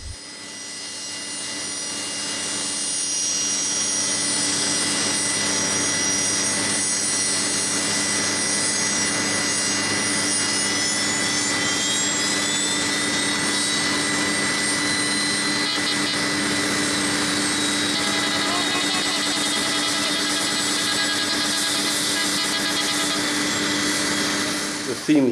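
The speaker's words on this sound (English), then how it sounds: "As PX5120 slowly taxied out onto the tarmac, the NAC Fire Service turned on the hoses for a washdown before the aircraft took off." A jet aircraft taxiing onto the airport tarmac produces a loud, steady turbine whine and roar that rises and shifts gradually in pitch, sustained for the whole stretch with no talk.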